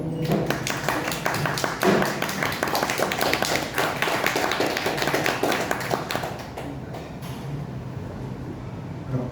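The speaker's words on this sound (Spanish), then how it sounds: "un aplauso para ellos, por favor" Audience applause for a panel at a book launch event, loud dense clapping from a room full of people that tapers off toward the end.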